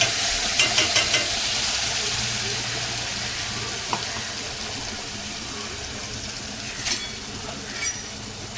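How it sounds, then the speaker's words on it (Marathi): Bay leaf and ground masala being stirred into a spicy mutton curry in a pan, a steady low sizzle with a few soft clicks and scrapes from stirring, close and even, no voices. "हा तेजपत्ता आणि हे जे वाटण केलेलं आहे ते पण आपण त्याच्यामध्ये ऍड करणार आहोत"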